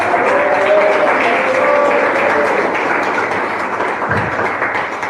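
Loud, dense applause from a church congregation at a sermon, a full sustained roar of clapping that eases slightly toward the end.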